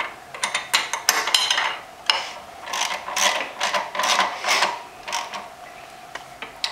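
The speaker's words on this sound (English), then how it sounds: "And then using a wrench on the other side," A wrench tightens a brake caliper bolt on a Kawasaki EX500 motorcycle, giving close, quick bursts of ratcheting clicks in an uneven rhythm with brief gaps between strokes.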